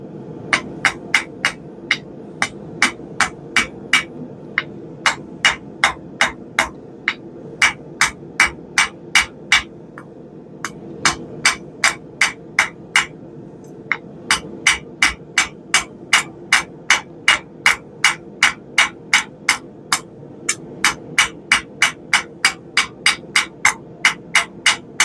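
A hammer rings steadily on hot metal being forged into a squirrel cooker fork, striking in a fast, even rhythm of loud, close blows with brief pauses, over a faint low hum.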